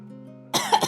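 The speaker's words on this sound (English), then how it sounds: "that was a real cough" A single real cough bursts out close and loud after a brief lull with a faint tonal hum beneath, followed by a short second rasp.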